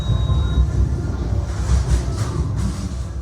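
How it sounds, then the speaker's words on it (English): Trains rumbling past close to The Blackfriar, an old City of London pub, a loud, deep, continuous low rumble with a faint higher whine that fades early on, felt as much as heard. "you'll hear, and feel, the trains frequently rumbling past."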